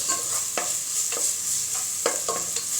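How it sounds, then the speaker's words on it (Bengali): Prawns and water spinach fry in a pan, with a continuous soft sizzle broken by several sharp scrapes of a spatula stirring at an uneven rhythm, close and moderately quiet with no talking. "এভাবে করে একটু ভেজে নিচ্ছি"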